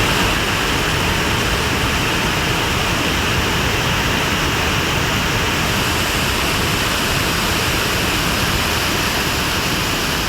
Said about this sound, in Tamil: திருப்பூர் உடுமலை பஞ்சலிங்க அருவியில் திடீர் வெள்ளப்பெருக்கு ஏற்பட்டதால்